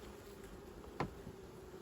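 Honeybees hum in a dense, continuous drone close by around a hive, steady and unbroken, with a brief soft knock in the middle.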